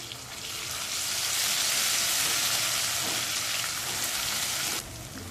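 Chopped onion fries in a pan as garlic paste goes in, a continuous bright sizzle that swells and holds steadily close up, then drops slightly near the end, with no talking.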